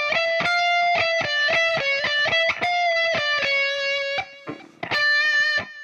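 Distorted electric guitar plays two measures of the minor chorus: a brisk run of picked single notes with a held bend, a brief gap, then more notes, close and clear with no talking.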